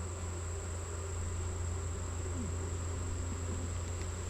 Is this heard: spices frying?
no